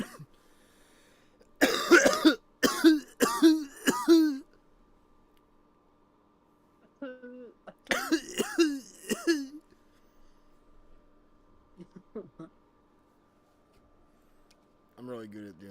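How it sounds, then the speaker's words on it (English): A man gives a burst of loud, close coughs in quick succession, then quiet, then another short cluster of throaty coughs, with a brief sound near the end. "I'm really good at doing the sassy cough."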